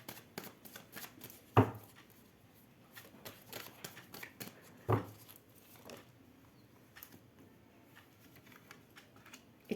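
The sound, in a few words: tarot cards being shuffled and drawn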